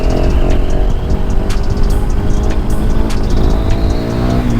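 A KTM 1290 Super Duke R motorcycle engine runs loud and close with a rough, pulsing roar and a few sharp blips as it revs.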